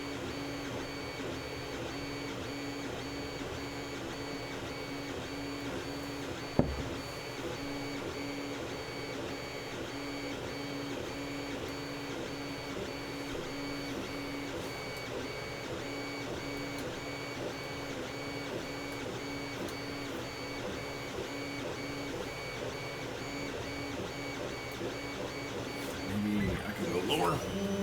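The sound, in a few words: Creality CR-10S 3D printer running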